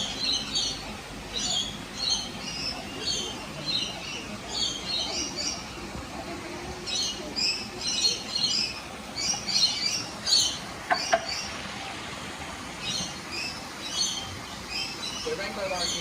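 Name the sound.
rainbow lorikeets calling in Australian reserve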